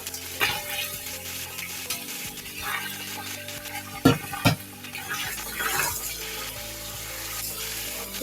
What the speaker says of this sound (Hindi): चिकन को फ्राई कर लें, इसके साथ भून लें।